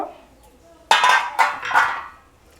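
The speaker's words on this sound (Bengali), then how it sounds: "এবারে ঢাকনাটা খুলে দেখব" A metal lid comes off a pot of macher matha muri ghonto (fish-head and puffed-rice dish), giving three clattering clinks about half a second apart, close and fairly loud after a quiet start.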